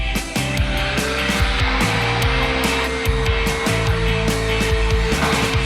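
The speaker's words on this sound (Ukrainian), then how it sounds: "Немає нічого простішого використати електропилку." An electric saw drones loudly and steadily, its whine shifting slightly in pitch as the blade bites through a wooden pole, with no talking throughout.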